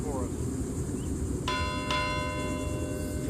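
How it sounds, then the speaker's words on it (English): A ship's bell aboard the USS Franklin D. Roosevelt rings twice at a memorial rededication, two clear metallic strikes about half a second apart that ring on over a steady outdoor background hum. "2 bells marks the end of a routine day aboard the ship."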